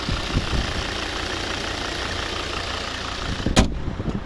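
A 2011 Volvo V60 2.0 D4 diesel with automatic transmission idles, heard close at the exhaust as a steady, rough low rumble with a brief bump of handling noise near the end.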